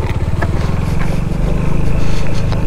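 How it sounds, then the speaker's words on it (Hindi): A motorcycle ridden slowly on a snowy mountain road to Ganga Choti in winter, its engine putting out a steady, close, low rumble that swells slightly louder toward the end. "स्लिप करा जी पूरा बाइक मेरा"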